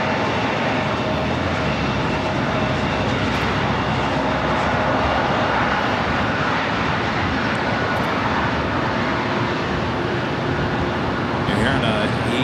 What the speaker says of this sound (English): You're hearing a E-jet pulling into the gates of the Eagle's Nest.